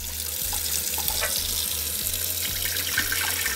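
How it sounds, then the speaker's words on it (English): Rice is washed under a running kitchen tap, a steady close rush of water into the sink with light splashing and swirling, continuous and alone over a faint low hum. "Now I'm just washing my rice"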